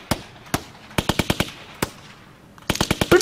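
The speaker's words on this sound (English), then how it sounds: "This is the hardest beat anybody's ever heard. It's made out of gunshots. Gunshots are the beat." Music beat built from gunshots: sharp cracking bangs in rhythmic clusters, single shots, then quick runs of four or five, close and punchy with short gaps between groups.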